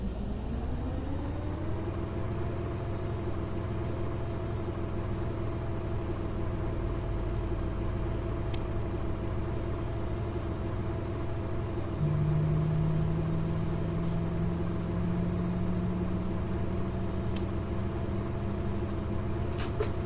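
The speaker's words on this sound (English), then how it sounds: "Let's start engine number 1." Engine number one of a Boeing 767-300ER spools up during pushback in the X-Plane 12 flight simulator, a steady low engine hum rising gradually in pitch over twenty seconds, with a brief added tone partway through and no talking.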